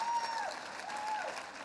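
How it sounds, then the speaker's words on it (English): Audience applause at a welcome dinner for a sports hall of fame enshrinement weekend, a steady broadband patter of clapping from a roomful of diners that holds fairly even for the whole stretch. "A round of applause."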